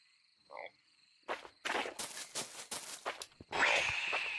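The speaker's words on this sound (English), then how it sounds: "I just squished a frog." A frog is squished in the video game Loveland: a short croak, then a burst of wet, crunching thuds and scrapes, ending in a louder, sustained hiss.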